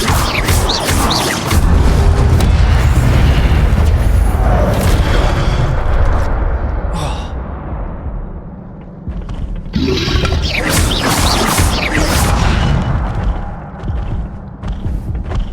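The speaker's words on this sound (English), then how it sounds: "Incendio!" Fire spell explosions in Hogwarts Legacy, with loud, dense booming and crashing blasts that come in rolling bursts, mixed with rumbling and creaking debris throughout.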